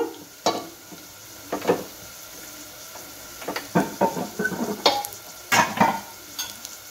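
Tempering for a gongura and bottle gourd curry crackles and sizzles in hot oil in a pan, with scraping stirs in irregular bursts, close and clear with no talk.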